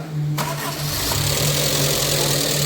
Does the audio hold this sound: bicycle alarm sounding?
no